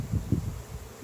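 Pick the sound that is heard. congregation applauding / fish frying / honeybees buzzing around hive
honeybees buzzing around hive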